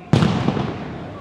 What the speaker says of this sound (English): Explosions behind me, as you can hear.